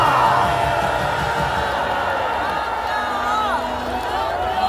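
A large outdoor political rally crowd in South Korea roars and cheers in a steady, dense wash of voices, with a loudspeaker voice faintly carrying over the din.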